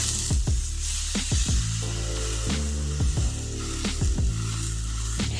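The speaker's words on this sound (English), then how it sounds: "we're gonna place our steaks on this sizzling hot pan" Ribeye steaks searing in a sizzling hot cast iron pan, a continuous loud hiss with repeated short scraping and pressing sounds at a steady pace, heard close with no talk.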